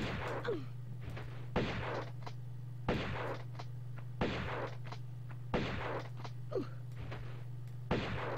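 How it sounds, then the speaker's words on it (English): Shotgun blasts from the Tomb Raider video game ring out at a steady pace, about seven loud sharp reports, each followed by a brief mechanical creak or clatter. "I'm going to use my shotgun this time"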